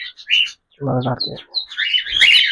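Pet cockatiels chirping up close, a few short bright tweets and calls in quick bursts, with a person speaking briefly in between.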